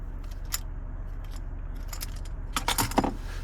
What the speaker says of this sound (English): here's the key fob with remote start.